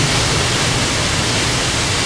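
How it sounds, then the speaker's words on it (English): Waterfalls in a grotto near Hilo, Hawaii, four falls together, pour as a loud, steady, unbroken roar of rushing water that fills the whole scene with no voices. "There's a grotto on this side with 4 waterfalls."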